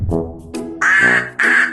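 Ducks quack loudly and close by in a flooded backyard, four raspy calls in quick succession, the last two longer and more nasal.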